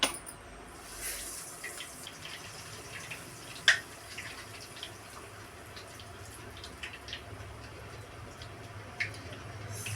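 Pieces of homemade evening snack frying in hot oil give off a steady, faint sizzling hiss. Occasional small pops and crackles sound close by.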